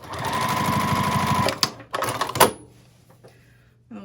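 A sewing machine top-stitches along the sides of a fabric strap for a small ID wallet pouch, running in a steady rapid burst for about a second and a half, then a few short clunks and handling noises follow.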